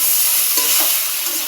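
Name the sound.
vegetables frying in a pan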